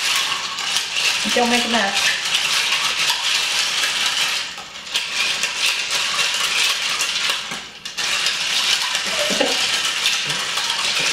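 Spoon stirring a gin gimlet made with Treaty Oak Waterloo gin vigorously in a glass, a steady, close, busy clinking rattle that runs nearly the whole time with two brief dips, while a voice speaks briefly over it.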